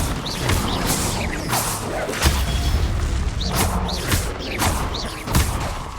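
Spells are cast in a Hogwarts Legacy battle, the Confringo and Protego magic producing repeated whooshes, booms and crashing impacts at an irregular rhythm, loud and up close with no talk.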